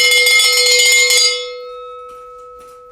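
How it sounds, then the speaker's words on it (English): A bell rung to mark promo code time on a live shopping stream gives a bright, loud metallic clang that rings on briefly, then fades into a long, steady hum. "That bell means it is promo code time."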